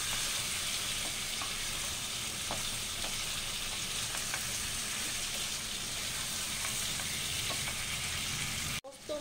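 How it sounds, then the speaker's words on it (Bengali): Boal fish pieces fry in a pan with spice paste, giving a loud continuous sizzle with occasional scraping stir strokes and no voices. "দিয়ে এবার ভালো করে আমি মাছগুলোর সাথে মশলা মেশাতে থাকবো।"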